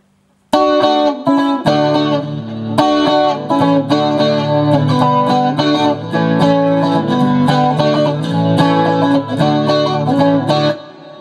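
A clean electric guitar plays steady chords and picked notes with a bright, shimmering tone through a JC Clean amp setting, alone and close.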